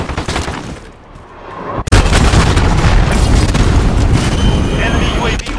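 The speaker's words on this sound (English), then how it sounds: "Enemy cruise missile." A cruise missile explodes in Call of Duty Modern Warfare online play. A loud, deep boom bursts in suddenly and rolls on as a dense, sustained rumble, with game voice audio mixed underneath.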